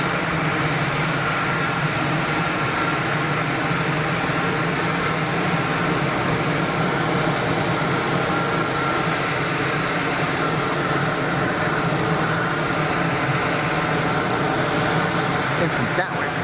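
An easyJet A320neo airliner arriving at Geneva Airport produces a steady, broad jet roar that holds at a moderate distance throughout, with a voice talking faintly over the continuous engine noise.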